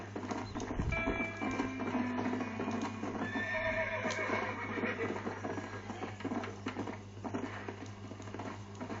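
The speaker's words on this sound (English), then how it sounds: "Now I got a horse as a trusty steed" In a western video game, a horse whinnies while hooves clip-clop steadily over a busy backdrop of game sounds and low hum.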